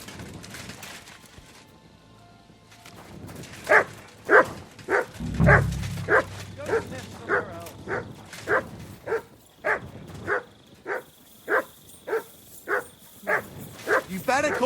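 A dog in the game Kingdom Come: Deliverance II barks in a long rhythmic run of about fifteen evenly spaced, moderately loud barks after a quiet opening, with a brief low thud partway through.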